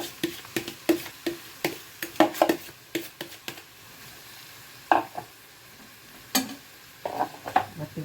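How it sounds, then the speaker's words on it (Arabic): Chopped onions hitting a spoonful of hot ghee in a pan, with irregular scraping and stirring clacks of a spoon against the pot over a faint low sizzle, close and fairly quiet. "انا هنا حطيت معلقه سمنه، هنزل بالبصل"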